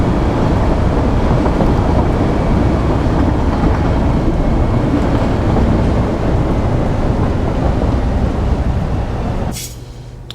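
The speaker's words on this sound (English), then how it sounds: "This train actually goes up to like 100 kilometers an hour plus." A train in the video game Satisfactory rumbles steadily at speed with a loud, dense roar and rattle that holds for about nine seconds, then drops away sharply with a brief hiss near the end.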